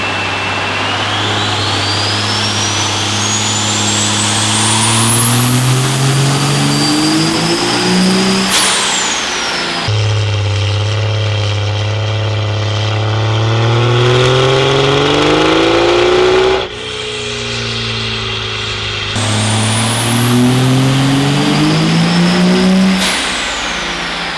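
A 12V Cummins diesel truck on a dyno revs hard in long pulls, engine note climbing with a rising whine before each release, repeated twice with a loud steady drone between, no talk.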